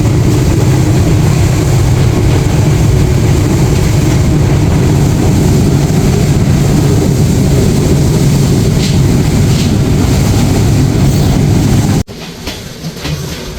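The Chilahati Express (806) rumbles loudly and continuously with a low, heavy roll and faint rhythmic clatter as it pulls into Birampur railway station, and near the end the roar suddenly drops to a quieter hum.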